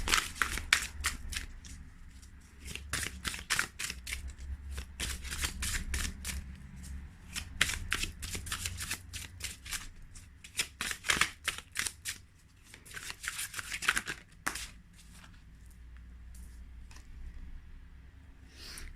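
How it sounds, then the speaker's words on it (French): Tarot cards are shuffled and drawn by hand in a steady run of crisp riffling and slapping bursts, close and fairly loud, with brief pauses near the end. "je vais vous tirer une autre carte"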